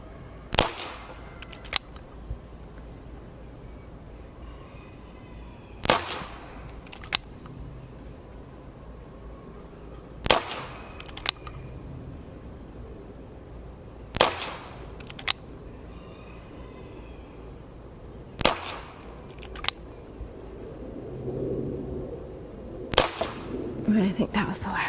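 A Dan Wesson 715 2.5-inch silver pellet revolver fired at a target with lead wadcutter pellets: six sharp, close pops spaced roughly four seconds apart, each followed by a faint impact tick, over quiet room tone, with brief talk near the end.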